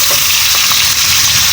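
Carrots sauté in a hot pan for pancit bihon, giving a loud, steady sizzle and hiss that fills the whole moment without a break.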